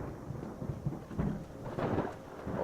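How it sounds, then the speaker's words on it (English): Thunderstorm with heavy rain in the video game Skyrim: low rolling rumbles of thunder swell and fade over a steady rain wash, with no talking. "Oh, this isn't just rain, it's a full-blown storm"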